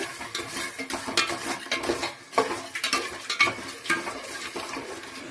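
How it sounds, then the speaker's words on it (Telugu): Jaggery melting in a pot is stirred steadily, making close, repeated scraping and soft liquid swishing strokes in an uneven rhythm, with no voices. "ఈ గిన్నెడు బెల్లం వేసుకొని కరిగించుకుంటున్నాం కదా."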